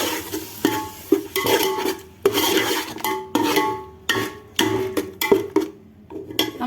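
A ground paste of mint, tomato and coriander is stirred into a home biryani pot with close, repeated scraping strokes in an uneven rhythm, each stroke briefly loud then fading, and no voices.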